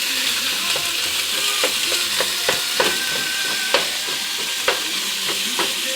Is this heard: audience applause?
no